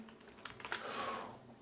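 Quick keystrokes on a computer keyboard while text is entered in Outlook, a short run of clicks at moderate level that blurs into a steady smeared noise, with no talking.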